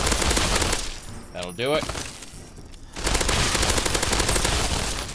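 Rapid, loud automatic gunfire in Fallout 3 aimed at albino radscorpions, dense crackling bursts with a brief pause in the middle while someone speaks over it.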